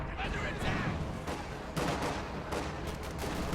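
Repeated artillery blasts and gunfire crack and rumble in a war video game, several impacts in quick succession over a dense, continuous battle din.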